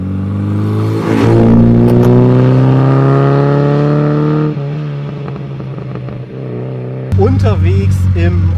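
A 1971 Austin Healey Sprite MK IV with a 1.3 litre engine drives slowly, its engine note climbing steadily through the gear, dropping briefly, then rising again, loud and close from inside the car.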